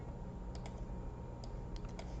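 Faint, sparse keystrokes click on a computer keyboard over a steady low background hum, scattered taps with no talking.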